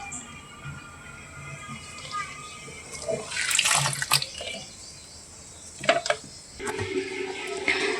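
Soaked chopped banana flower being rinsed under running water, with splashing and trickling that swells in bursts around the middle and again near the end, close and moderately loud.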